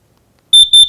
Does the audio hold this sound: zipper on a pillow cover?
no